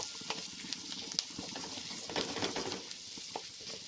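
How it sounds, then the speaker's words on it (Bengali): Cumin, curry leaves and chopped ginger are stirred in hot oil for a tempering, giving a soft continuous sizzle with scattered scraping and clicking from the spoon, close but fairly quiet. "এবার খুব ভালো করে ফোড়নটাকে নাড়াচাড়া করে নেব"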